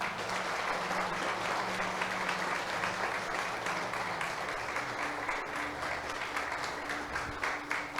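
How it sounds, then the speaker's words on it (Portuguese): A church congregation applauds during a Portuguese-language service, a full room of steady clapping with a low sustained tone underneath, continuous and fairly even throughout. "Vamos aplaudir Jesus."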